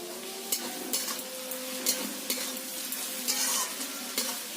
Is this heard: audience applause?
no